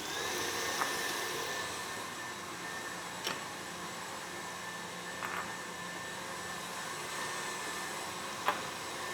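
An electric mixer beating room-temperature butter for brigadeiro cupcakes, a steady whirring motor hum with a few faint clicks, moderately quiet and continuous.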